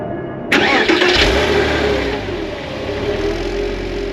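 Porsche Boxster 986 flat-six engine starting after a brief moment of quiet: a sharp crank and catch, a quick flare of revs, then settling into a steady, close, loud idle rumble.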